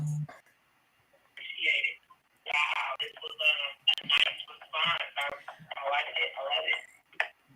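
A telephone rings for an incoming call during a live show, its bright electronic tone arriving in repeated bursts that rise, fall and repeat rapidly, fairly loud and close.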